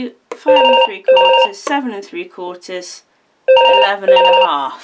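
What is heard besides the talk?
telephone ringing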